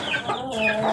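Backyard chickens cluck close by in a short, busy burst of overlapping hen calls, with no talking over them.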